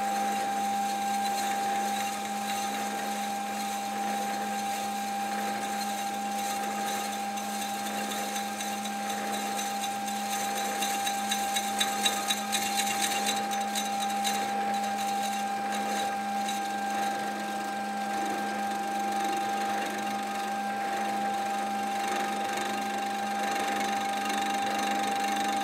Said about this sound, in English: so I'll try to finish it with a high-speed steel tool